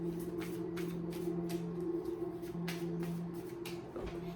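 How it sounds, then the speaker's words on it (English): Repeated crisp riffles of tarot cards being shuffled, several bursts in steady rhythm, close up over a low steady hum in the room. "I don't know why it's taking so long to shuffle today."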